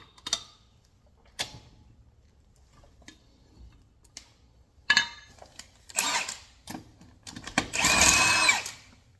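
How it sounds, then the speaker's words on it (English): Lug wrench loosening the lug nuts on a modern SUV wheel during a flat tire change, heard as sparse sharp metallic clicks and ratchety bursts up close, building to a louder grinding stretch near the end. "And then you can take your lug wrench, stick it on there, and crank it off."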